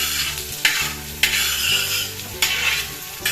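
Sliced onion sautéing in a pan for beef kondattam, a steady close sizzle broken by three sharp scraping stirs of a utensil against the pan, with no talking.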